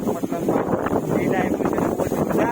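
Strong wind sweeping across an open hillside near a village, buffeting the microphone in a continuous, uneven roar with rustling, while people speak through it.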